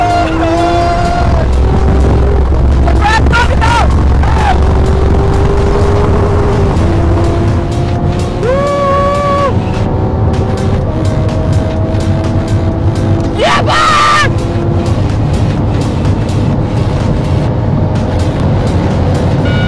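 A Lamborghini Aventador S pulls away and accelerates hard, the engine roaring loud and close through rising gear sweeps, with a sharp high-pitched burst partway through and occasional voices inside the cabin.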